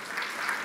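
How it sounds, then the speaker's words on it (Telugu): Church congregation clapping together in praise during a sermon on the godly family, a steady dense wash of applause with no break. "చప్పట్లు కొట్టి దేవుని స్తుతిద్దాం"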